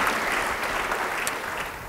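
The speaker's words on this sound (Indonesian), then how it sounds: "beri tepuk tangan yang baik bagi dia." A church congregation breaks into applause, a loud, dense burst of clapping close by that holds steady for the full short stretch.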